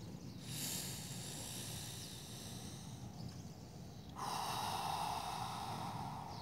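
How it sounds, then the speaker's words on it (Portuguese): Wim Hof power breathing: close, forceful nasal inhales and exhales, one long breath giving way to a stronger, louder breath midway. "eu estou procurando cada vez mais fazer a respiração completa. Então, expandi o abdômen."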